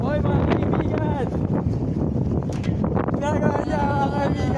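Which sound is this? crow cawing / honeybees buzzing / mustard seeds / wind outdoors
wind outdoors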